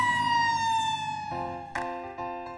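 Emergency vehicle siren wailing in city traffic, a steady harmonic tone that shifts pitch partway through, loud and close with no speech.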